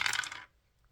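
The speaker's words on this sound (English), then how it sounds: "So let's just roll the 6-sided dice again." A six-sided die rolled once, giving a short, close clatter that lasts about half a second and then cuts to near silence.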